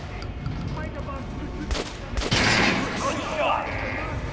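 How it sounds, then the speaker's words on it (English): Gunfire in Metro: Last Light Redux, with a few separate rounds fired downrange in a game shooting range. The shots crack sharply at moderate loudness over a constant low game ambience, and a voice talks underneath. "I guess we'll fire a couple of rounds downrange. Those are the exact same sound effects as in the first game."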